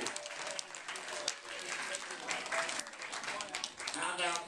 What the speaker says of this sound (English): Clap your hands for our helpers.